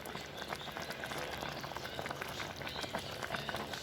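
A pot of miswa noodle soup with mixed vegetables boiling, a dense, even bubbling and crackle heard close and continuous throughout.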